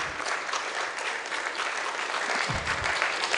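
An audience claps in a steady, dense wash of applause at a management lecture in Nigeria. It stays loud and even throughout, with a low thump near the end and no talk over it.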